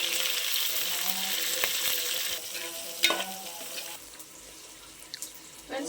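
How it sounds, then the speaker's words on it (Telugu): Onions go into a pan with green chillies and spices and fry with a strong close sizzle that drops in level partway through, broken by a few sharp utensil knocks near the end. "ఉల్లిపాయలు కూడా వేస్తున్నా."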